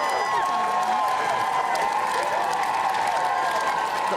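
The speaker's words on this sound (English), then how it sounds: "Got a cheer from the audience as well." A studio audience at a live Friday night show cheers and applauds steadily throughout, a dense wash of clapping and whoops with a voice briefly heard over it.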